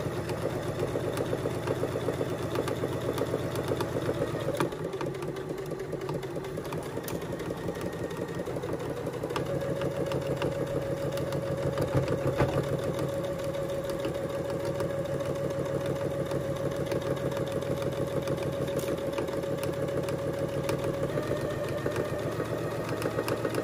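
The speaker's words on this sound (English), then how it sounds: "I am just going to stitch this again using a 1/4 inch seam allowance all the way across" A sewing machine stitching fabric in a straight line with a 1/4 inch seam allowance, a close, steady motor hum with rapid rhythmic needle chatter that runs continuously.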